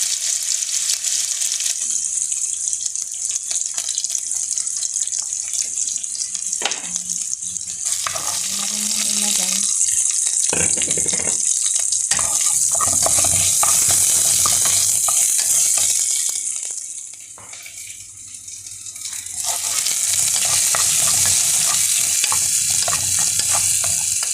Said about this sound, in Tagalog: Mainit ang ating mantika. Ilalagay na natin ang ating ginger.